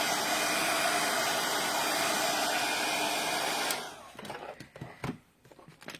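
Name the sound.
hair dryer drying a craft notebook page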